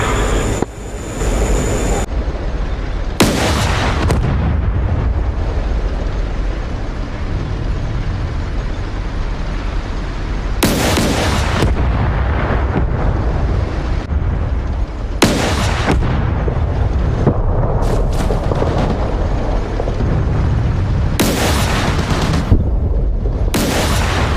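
DCS World flight-sim combat over a hostile airfield: a missile launch and heavy explosions roar in long, loud rumbling blasts, several separate bursts rising out of a constant low engine drone.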